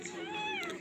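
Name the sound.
cat meowing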